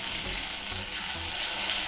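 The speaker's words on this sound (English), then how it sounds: "That sizzle!" Loud, steady sizzling of chicken frying in hot oil in a pot, a dense crackling hiss close up with no talking.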